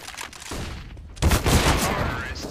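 A flashbang grenade thrown in a video game gives a loud, sudden burst with a rushing, sharp blast that fills the short clip after a brief quieter lead-in.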